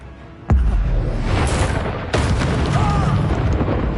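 An Incendio fire spell in Hogwarts Legacy goes off with a sharp, loud boom that becomes a roaring, whooshing burst of flame, followed by a second blast and continuing rumble amid dense game effects.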